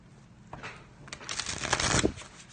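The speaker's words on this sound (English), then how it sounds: "let's get this thing shuffled up." A thick tarot card deck is riffled and shuffled up close, a rising patter of card flicks building over about two seconds.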